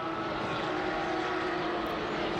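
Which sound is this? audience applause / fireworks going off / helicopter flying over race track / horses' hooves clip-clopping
helicopter flying over race track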